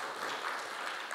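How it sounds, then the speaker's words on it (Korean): Seated listeners at a talk about the Suncheon Bay International Garden Expo break into a brief burst of clapping, a soft, dense patter of many hands heard from a distance. "시민들은 이렇게 감동할 때 박수 칩니다."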